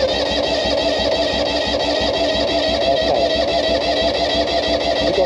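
The engine of an abandoned military vehicle is turned over by the starter, giving a steady, rapid, rhythmic churning that stays loud and close throughout without catching.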